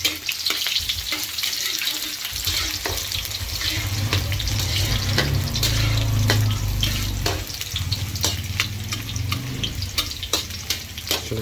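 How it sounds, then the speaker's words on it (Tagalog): Onions sizzling in a pan as scrambled eggs with tomatoes are started: a steady, dense crackling hiss close by, with occasional clicks and stirring scrapes over a continuous frying bed, no talk. "unang ilalagyan natin mga kawawot itong sibuyas kasi matagal man ito eh, matagal maluto"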